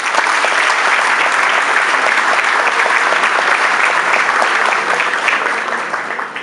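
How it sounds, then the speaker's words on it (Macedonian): An audience at a sports awards ceremony honoring athletes, coaches and clubs claps steadily, a dense, uninterrupted round of applause that tapers slightly at the end. "Затоа ве молам сите сега пред да почнеме да ги наградиме со еден аплауз"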